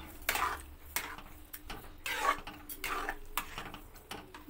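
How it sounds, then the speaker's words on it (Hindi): A spoon stirs carrot halwa with sugar in a pot, giving repeated scraping clinks and knocks against the metal in an irregular rhythm, close and clear, with no talking. "इन सबको अच्छे से हम मिक्स कर लेते हैं"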